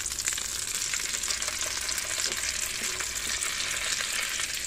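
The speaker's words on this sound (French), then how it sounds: "on fait chauffer sa poêle et on remet ses ballotines, on va les faire colorer" Chicken ballotines browning in a hot frying pan give off a constant, even sizzle close by, with no talking.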